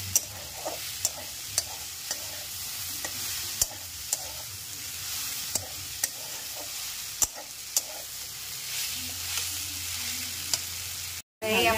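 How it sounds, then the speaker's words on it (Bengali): Water spinach (kalmi shak) sizzles steadily in a pan over a gas flame while being stirred, with regular sharp scrapes and taps of the spatula against the pan throughout, close and unbroken. "এই আমাদের শাকটা হয়ে গেছে ভাজা ভাজা।"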